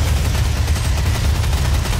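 Dense, continuous automatic gunfire from the Doom video game, a loud rumbling barrage of rapid shots with booming low end that runs without a break, with no voices on top.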